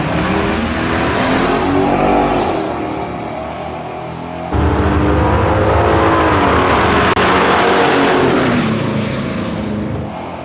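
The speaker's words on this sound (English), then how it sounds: "here comes the Hot T Racing Grand Sport Drop Top Corvette, getting ready to take on the nasty Pontiac GTO" A Grand Sport drop-top Corvette and a Pontiac GTO drag race at a dragway, with loud, sustained engine roar and revving filling the clip, dipping briefly midway before surging again.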